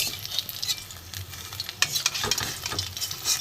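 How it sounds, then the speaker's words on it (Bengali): Parshe fish frying crisp in a pan, a steady sizzle with scraping spatula strokes as the pieces are stirred and lifted, close and alone with no talk. "পার্শে মাছ ভাজা আমি তুলে নেবো। কড়া করে ভেজে নিয়েছি।"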